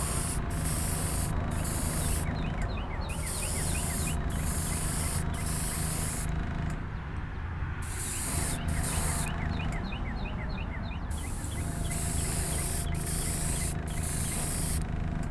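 Aerosol spray paint on a diecast model car body in repeated passes, a close hiss with bursts that start and stop, separated by short gaps.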